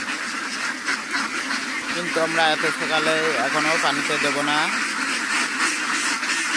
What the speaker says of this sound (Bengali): আপনারা দেখুন হাঁসগুলো কিভাবে পানিতে যাওয়ার জন্য ছোটাছুটি করতেছে